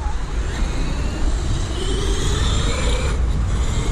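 Traxxas X-Maxx RC car with an unrestricted 1100kv motor driving at a BMX track, a steady loud motor whine with rushing tyre and gravel noise that holds throughout.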